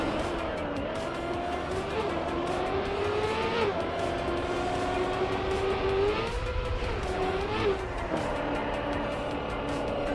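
A race car in the Trackmania video game drones steadily with a rising and falling engine whine as it shifts and corners, continuous and loud for the whole stretch, with game audio only.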